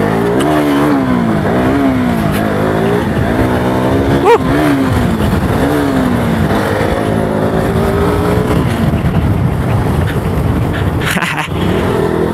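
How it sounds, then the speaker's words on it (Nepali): Motorcycle engine revving hard as the throttle is twisted while riding, a loud close roar rising and falling in repeated surges, with wind rush and road noise throughout. "बटार्नु परिहाल्यो नि, बल्ल पो बाइक चढ्यो जस्तो हुन्छ"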